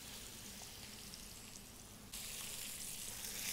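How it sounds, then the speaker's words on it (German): Lamb chops sear in a very hot pan, giving a steady, loud sizzle and crackle with no talking; the frying grows noticeably louder partway through. "Jetzt wirklich bei hoher Hitze volle Last auf die Pfanne braten."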